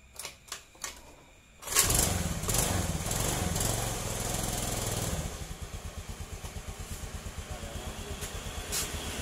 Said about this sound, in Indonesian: Oke motornya sudah bisa hidup ya para brother semua